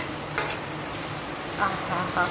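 Peanuts fry in hot oil in a pan as a sabudana khichadi is being prepared, giving a soft continuous sizzle with a few brief stirring scrapes, close and fairly quiet, with no talking.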